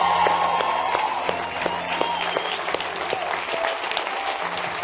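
A church congregation applauds and cheers for the Lord in loud, steady, dense clapping that fills the room, with voices calling out beneath it.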